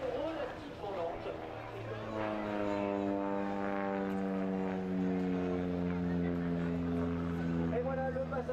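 A propeller aerobatic airplane performs a slow roll at an air show, its engine drone rising and falling in pitch as it passes, heard steadily under a commentator's continuous talk.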